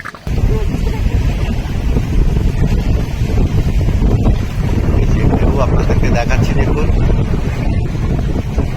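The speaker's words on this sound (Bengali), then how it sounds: "একের পর এক ঢেউ আছড়ে পড়ছে" A stormy gale buffets the microphone on a Sundarbans river during rough weather, a loud continuous roar of wind with waves crashing, while someone talks briefly.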